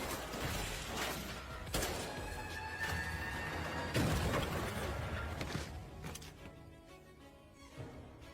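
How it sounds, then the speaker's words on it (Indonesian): Gunshots fired in panic during a film action scene, several sharp cracks and impacts amid a busy, mixed soundtrack of crashes and background noise, moderately loud. "Shengzu panik menembak ke arah Xian."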